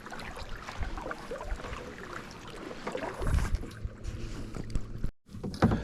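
A Pelican kayak being paddled on Hammertown Lake in Jackson, Ohio, with soft water splashes and paddle strokes over light wind noise, moderately close, no talking.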